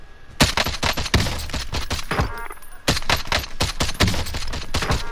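DMR rifle fire in Call of Duty: Modern Warfare cracks out as rapid, loud, evenly spaced shots in dense bursts, with a brief lull before the shooting resumes.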